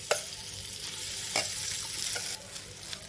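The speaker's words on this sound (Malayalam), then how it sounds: "ചൂടായ തവയിലോട്ട് ഞാൻ ഇച്ചിരി വെണ്ണ ഇതാണ് കേട്ടോ, അതൊന്ന് സ്പ്രെഡ് ആക്കണം." A mixture sizzling in butter on a hot dosa tawa for homemade pizza, giving a steady close crackle with a few sharper scrapes and pops, no talking.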